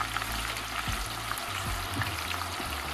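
Fish frying for fish and chips in hot oil, a steady, dense crackling sizzle that stays loud and even throughout, with low bubbling underneath and no voices.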